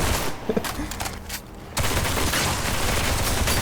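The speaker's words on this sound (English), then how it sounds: "So as you can see with the shooting with this assault rifle, it feels kind of meh." Rapid assault rifle fire from the Duet Night Abyss video game crackles in sustained bursts, with a brief lull before a dense continuous volley.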